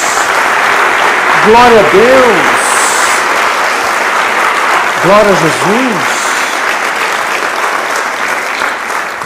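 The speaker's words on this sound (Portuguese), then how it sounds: "Dá uma salva de palmas a Jesus." Church congregation applauding steadily throughout, with a worship leader's voice calling out praise over the clapping.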